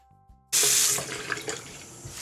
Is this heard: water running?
yes